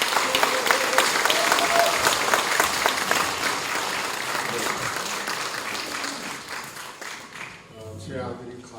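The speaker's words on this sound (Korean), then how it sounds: "우리 특별히 뜨거운 박수로 모셔서 강연을시도 하겠습니다." Audience applause welcoming a lecturer to a political talk in Gapyeong, a dense, sustained roar of many hands clapping that fills the hall and fades slightly toward the end as a voice begins speaking.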